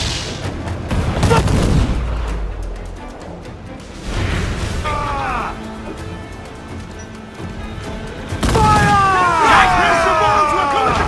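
Ship cannons firing in Assassin's Creed IV: Black Flag during a naval battle, loud booming blasts in bursts with crackling debris and whistling, mixed with shouting crew voices and music.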